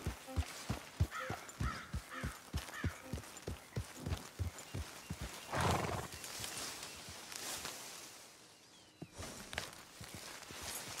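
A horse in the Red Dead Redemption 2 video game clip-clops along at a steady walking rhythm, hooves thudding close, followed by a snort and a softer rustling stretch.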